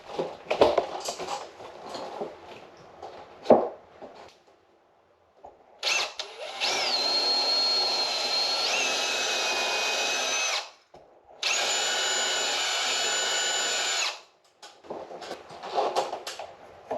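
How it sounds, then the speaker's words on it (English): A power drill bores through clamped IKEA PAX closet panels in two steady, loud runs of several seconds each, separated by a short pause, with softer handling clatter before and after. "So we'll get it clamped together and drilled."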